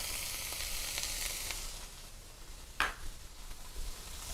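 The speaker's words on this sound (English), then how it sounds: "I'm going to add in our garlic and onions" Garlic and onions sizzle steadily in a pan for a chicken pot pie filling, a continuous bright frying hiss with a short sharp scrape or clink near the middle, no voices.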